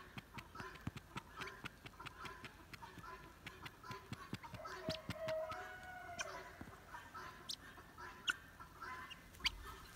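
Guinea fowl call with repeated sharp clucks and squawks at close to mid distance over about ten seconds, set against an outdoor backdrop.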